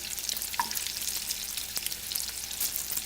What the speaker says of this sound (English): we're going to get those down into the oil and butter.